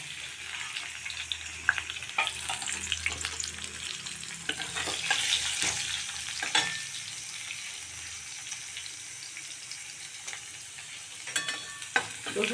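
Garlic and dried chilies frying in hot oil in a pan while beets are being cooked, giving a steady close sizzle with occasional stirring scrapes and clinks, no voices.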